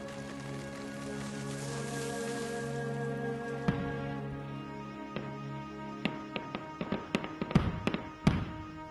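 Fireworks and firecrackers at a summer solstice celebration, sharp cracks and pops starting singly and then bursting in a rapid irregular cluster over a steady hissing background, fairly distant.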